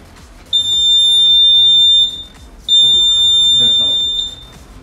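A Raspberry Pi anti-sleep driver drowsiness alarm goes off when the eyes close, giving two loud, close, high-pitched electronic beeps, each about one and a half seconds long, with a brief gap between them.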